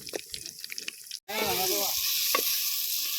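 Curry leaves frying in hot oil in a pan, with a loud, steady sizzle that bursts in suddenly after a cut and continues; a voice speaks over the first part.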